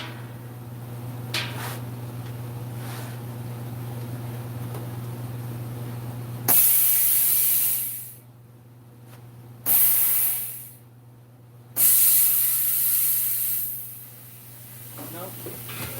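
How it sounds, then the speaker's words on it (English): A tire changer's big blast hose releases three loud, sharp bursts of rushing air, each lasting a second or two with short pauses between, after a low steady hum. "this one has a blast, big blast hose"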